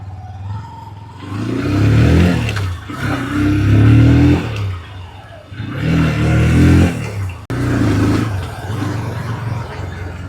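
A 2026 TVS Apache RTR 160 2V motorcycle with dual-channel ABS runs in first gear, its engine a loud, close, steady drone that swells and eases in waves, with a brief sharp cut near the end.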